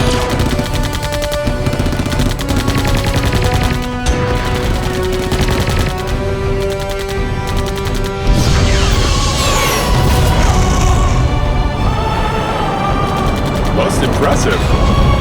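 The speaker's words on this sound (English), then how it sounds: "Don't just shoot randomly! I hit 3 already! You can't possibly miss! Shoot the mini nuke!" Loud sci-fi battle scene from a 2007 feature film with dense rapid gunfire and booms running throughout, mixed with a heavy music score and shouted voices.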